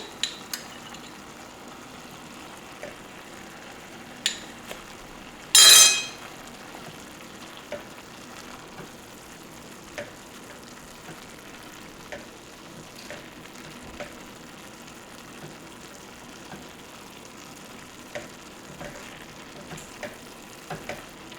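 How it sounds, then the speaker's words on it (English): Food fries softly in a pan as a cornstarch slurry is stirred in, with a low steady sizzle, scattered light scrapes and taps, and one brief sharp burst of louder sizzling. "All right, slurry going in."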